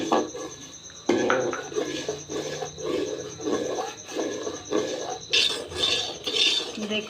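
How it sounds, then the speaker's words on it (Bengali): A spoon scrapes and clinks against a metal pot while stirring thick Bengali rice pudding (payesh) with cinnamon and cardamom, in close, repeated rhythmic strokes, with brighter clatter near the end. "এখন নাড়তেই থাকতে হবে, না নাড়লে লেগে যাবে।"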